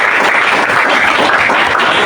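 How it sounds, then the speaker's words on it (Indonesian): Students clapping hands together in a classroom, a loud, close, dense burst of applause lasting a couple of seconds. "Oke, tepuk tangan."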